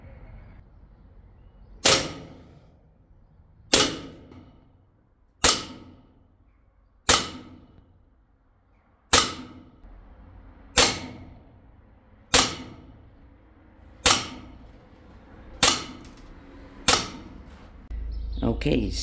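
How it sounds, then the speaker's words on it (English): Walther PPK/S CO2 air pistol firing ten sharp, snappy shots spaced roughly two seconds apart, each a loud close crack with a short decaying tail. "And now you're ready to fire again."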